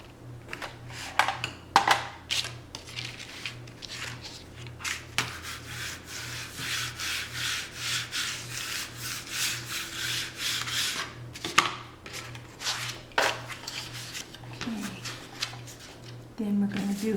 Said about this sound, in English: Then I'm going to burnish this other side.